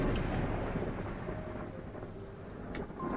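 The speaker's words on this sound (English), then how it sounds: "Good timing on the thunderclap." A deep rolling thunderclap rumbles through a rainy night in the game Strange Antiquities, broad and heavy at first, then slowly fading with rain hissing steadily underneath and no voices.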